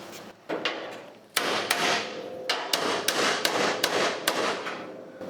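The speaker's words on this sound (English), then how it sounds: "hammer it down" A hammer strikes the metal front bumper of a 1963 Ford Thunderbird held over a dolly, giving a run of sharp, ringing close blows at an uneven rhythm with short pauses between them.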